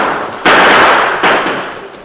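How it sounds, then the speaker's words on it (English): Gunfire effects in an old-time radio drama, a scatter gun and six-guns, with two loud sharp blasts about a second apart, each leaving a long decaying roar. "pouring deadly gunfire into the blanket-wrapped figures"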